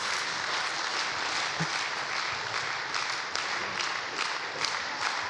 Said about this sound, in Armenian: արժի Աստծուն ծափ տալ մեր երեխեքի համար